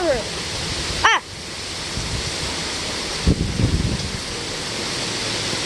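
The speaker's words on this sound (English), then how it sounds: "do you guys see all that wind? But look at the water." Strong hurricane wind roars steadily over rough water, a loud broadband rush with microphone buffeting and a couple of sharp gusts.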